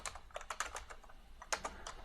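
A computer keyboard being typed on, spelling out the ipconfig command: quiet, close clicks in two quick bursts separated by a short pause.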